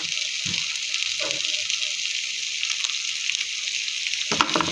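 Spice paste, onion, ginger and garlic paste frying in a pan for egg korma, a steady soft sizzle with faint stirring scrapes and a brief louder clatter near the end.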